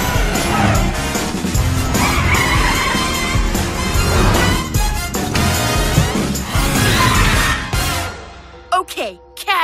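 Cartoon cat car from PJ Masks racing and skidding, a loud continuous engine roar with tire squeals and crash-like hits under dense music and cartoon voices, ending in a brief quieter stretch of synthetic effects.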